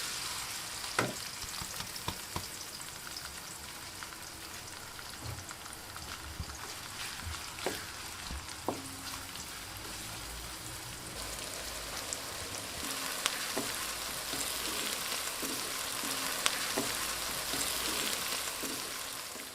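Steady sizzling of diced onions frying in hot oil in a kadhai, a continuous crackle with occasional sharper pops and stirring clatter, close and fairly quiet.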